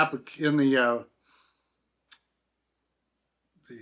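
Scissors give a single short, crisp snip through quilting fabric for a Dresden block, heard alone in near silence after a person speaks briefly.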